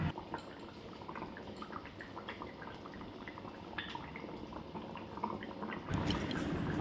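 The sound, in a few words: fried fish pieces added to boiling curry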